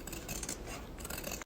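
Scissors trim excess fabric around a circular cut piece for a retro canteen-style bag, a continuous close rasping of snipping and rubbing cloth that stops abruptly at the end, with no talking.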